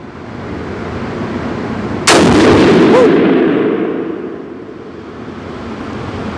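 A single loud rifle shot fires Hornady ammunition from a 26-inch barrel outdoors, a sharp crack followed by a rolling echo that fades over a couple of seconds against steady wind noise.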